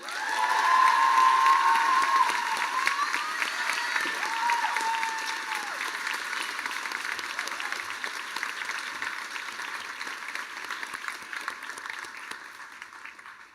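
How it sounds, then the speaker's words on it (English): Applause with cheering from a crowd at a high school graduation ceremony for the class of 2026, loud and sustained at first, then slowly thinning out toward the end. "How about another round of applause for the class of 2026?"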